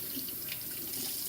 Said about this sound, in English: I like to wash my hands in between touching different things, just to avoid contamination